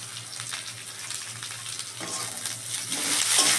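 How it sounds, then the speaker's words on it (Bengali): Potato pieces frying in hot oil in a pan, a steady close crackling sizzle with occasional stirring scrapes, rising slightly toward the end. "এবার এটাকে একটুখানি হালকা ভেজে নেব।"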